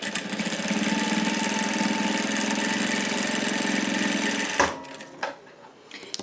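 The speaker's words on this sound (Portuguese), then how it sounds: "Vamos passar uma costura aqui, prendendo um viés de fora a fora" A sewing machine stitches bias binding in a fast, steady whirring run for several seconds, then stops, followed by a few soft handling clicks and knocks nearby.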